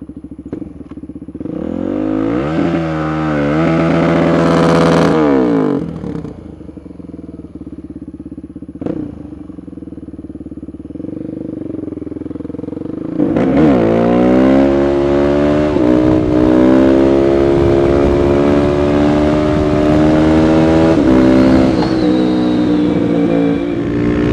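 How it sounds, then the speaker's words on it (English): A motorcycle doing a burnout, its engine revving hard in loud, close bursts that rise and fall, with a short lull before a long sustained high-rev stretch. "Burnout!"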